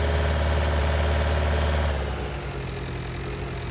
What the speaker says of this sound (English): sounds like a lawnmower